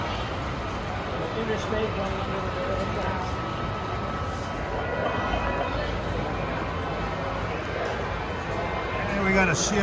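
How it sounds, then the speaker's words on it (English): Model CSX train with locomotives running on a layout at a train show in Springfield, Massachusetts, giving a steady rolling rumble under constant crowd chatter and talk throughout. "CSX train with some neat locomotives."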